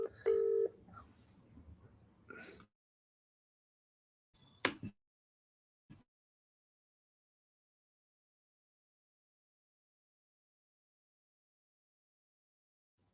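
A telephone dialed to place a call during a live broadcast: a few short, sharp tones and clicks at close range, then long silence.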